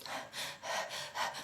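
A voice imitates short, rapid anxious breathing: a few quick, breathy huffs in a steady uneven rhythm, close and fairly soft, with no words spoken.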